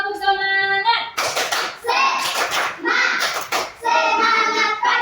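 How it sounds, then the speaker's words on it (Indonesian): A group of children in a classroom doing a rhythmic spirit clap, bursts of patterned hand claps alternating with the children's chanted, sung voices, close and lively. "Tepuk semangat."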